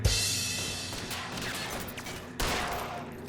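A short spell of gunfire in LA Noire: a sharp opening shot, then a loud ringing burst that fades, and a second hard report near the end, all fairly close and free of talk.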